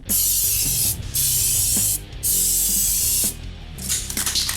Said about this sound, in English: just a light spray, and you want to spray from side to side, not straight on